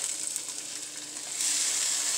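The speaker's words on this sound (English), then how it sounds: "let's start adding those peppers and onions" Diced peppers and onions frying in a hot pan, a steady bright sizzle that grows louder and fuller partway through as more vegetables go in, heard alone without talk.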